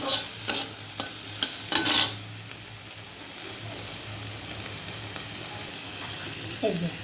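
Shrimp fry in a pan with only a little oil, giving a soft, steady sizzle punctuated by a few sharp scraping stirs early on, with a brief voice near the end.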